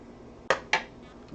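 Pans and dishes clatter twice in quick succession, two sharp close metallic knocks with a fainter clink at the end, while frittatas are being cooked in a home kitchen.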